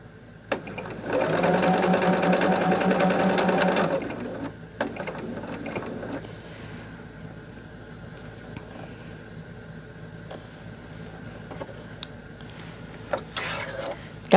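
A sewing machine stitches quilt fabric in Robert Kaufman Silverstone, running in one steady loud burst for about three seconds, then a shorter run, followed by quiet handling noises.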